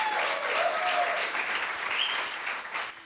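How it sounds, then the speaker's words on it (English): A coding bootcamp demo day audience claps in sustained applause, a dense patter of many hands with a few faint whoops, fading slightly at the end. "give a round of applause"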